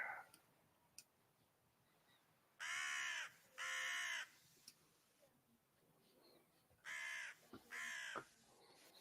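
Crows caw in two paired bursts, harsh and fairly near, with quiet gaps and small clicks in between, set against a faint ambient background.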